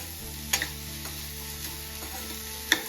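Grated coconut and grated jaggery stirred together in a pan for coconut laddu: a soft steady sizzle with a few sharp scrapes and taps of the spoon against the pan, close up.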